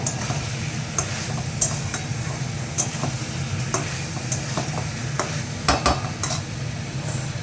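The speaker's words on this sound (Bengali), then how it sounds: "এই যে অল্প একটু চিনি দিলাম, দিয়ে একটুখানি নাড়াচাড়া করবো।" Spoon stirring a Bengali vegetable curry with a little sugar in a pan, steady scraping and soft sizzle with occasional clicks of utensil on metal, close and continuous, no talking.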